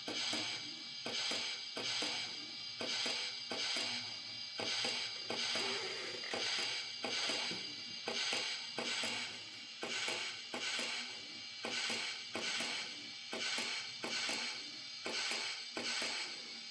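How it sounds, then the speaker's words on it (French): A Plasser & Theurer model track maintenance machine runs slowly with a rhythmic mechanical clatter, a regular ratcheting, gear-driven pulse repeating about once a second, close and steady with no talk. "Essai de fonctionnement au ralenti, voilà, de la machine"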